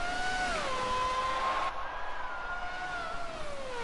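Racing car engines in a classic racing video game, a steady high engine drone with gliding pitch shifts as the car changes gears, continuous and fairly loud.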